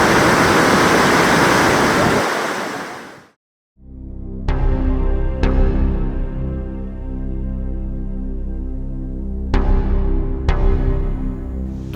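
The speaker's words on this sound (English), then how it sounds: "a view of what's called the Devil's Throat, where huge volumes of waterfalls are taking place" The roaring Devil's Throat falls at Iguazu National Park give a loud, dense, continuous rush of crashing water that cuts off abruptly, followed by low tonal music with a few struck accents.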